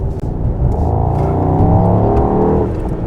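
A new Mercedes-AMG GT in comfort mode drones loudly and close, its engine and exhaust holding a steady, rumbling note with slight rises in pitch throughout.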